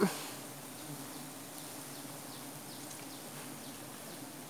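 Bees flying out of a nest being cut from a tree branch, a faint steady insect buzz and drone hanging over a quiet outdoor background throughout.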